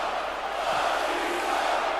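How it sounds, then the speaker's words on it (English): Wrestling crowd at the Hammerstein Ballroom in New York City chanting for Batista during a Fight Zone Wrestling match: a steady, dense roar of many voices filling the hall, loud and continuous throughout. "The crowd chanting for Batista"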